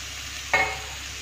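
Cauliflower and potato with spices are stirred in a hot pan, giving one brief scraping stir over a soft, steady sizzle of frying, with no talking.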